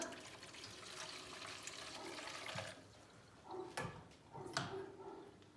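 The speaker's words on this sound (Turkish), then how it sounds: "Bir su bardağı kadar da su ekleyeceğim canlar." A glass of water is poured into a cooking pot with a soft, faint splashing rush that fades out, followed by a few quiet clinks and scrapes in a kitchen.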